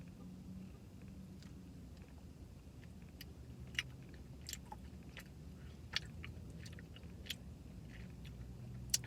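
Boba pearls are chewed during a mukbang, with quiet, close, soft chewing and sporadic crisp clicks and smacks over a hushed background and no talking.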